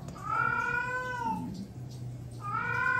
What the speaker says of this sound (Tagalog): Yun yung pusa ko.